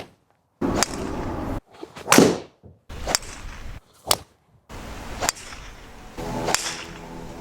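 A golf driver with a rear weight strikes balls in a series of separate shots, each a sharp, loud crack followed by a brief ringing tail, set against changing outdoor ambience between hits.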